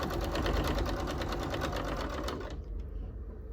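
A domestic sewing machine stitches quilt binding in a loud, steady whirring run that stops abruptly near the end, leaving quieter handling noise.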